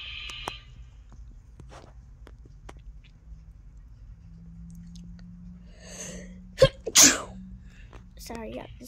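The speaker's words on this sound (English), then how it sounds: "Sorry, I have to sneeze." A single sharp sneeze bursts out near the end after a quiet stretch, loud and close, with a short breathy lead-in.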